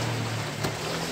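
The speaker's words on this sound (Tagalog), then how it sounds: "Mag-iipon na kami ng tubig para sa aming pangatlong pagbabanlaw." Water sloshes steadily while ring or grommet curtains are rinsed in a basin during a third rinse, giving a continuous close swishing wash with one brief louder splash partway through.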